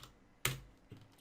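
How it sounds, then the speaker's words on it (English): Keys on a computer keyboard being pressed, one crisp close click followed by a softer second tap, isolated against near silence. "I say align bottom and then type in register button"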